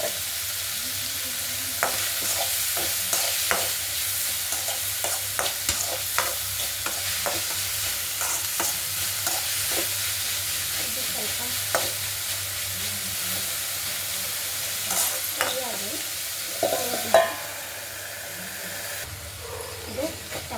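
Tomato sizzles and fries in a pan with a little salt while a spoon stirs and scrapes it repeatedly, a steady hiss broken by scraping clatters, with a brief louder clatter near the end.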